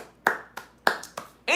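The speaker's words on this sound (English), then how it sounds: "So round of applause for my channel members" Five separate, sharp claps ring out with uneven spacing, close and clear against a quiet background, with no other sound between them.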